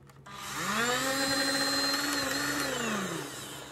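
A Ryobi power tool malfunctioning mid-job, its motor spinning up into a steady whining drone that holds for a few seconds, then winds down. No voices.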